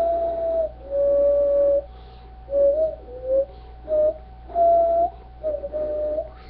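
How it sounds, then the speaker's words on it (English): Gizmo from Gremlins 2 whistles a song, a clear, close tonal melody in short phrases broken by brief pauses, with no talking over it. "he hears Gizmo whistling his song"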